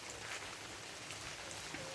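Steady rain falling on a leafy cacao farm, a soft continuous hiss with scattered faint drop patters, fairly quiet and even throughout.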